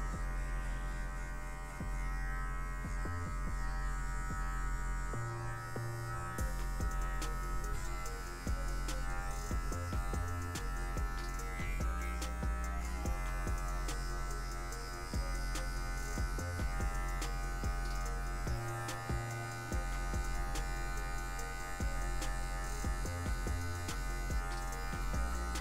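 Electric hair clippers fade afro hair with a continuous close mechanical buzz, its pitch and load shifting as the blade moves through the hair, steady throughout with little or no talk.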